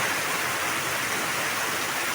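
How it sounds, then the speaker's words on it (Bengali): Heavy downpour drums steadily on a tin roof, a dense, continuous hiss and patter that stays loud and unbroken throughout. "এখন বাজে নয়টা নাগাদ খুব জোরে বৃষ্টি হচ্ছে মুসুলধারে"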